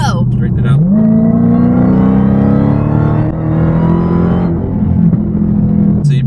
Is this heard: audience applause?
no